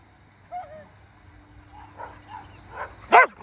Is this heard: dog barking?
yes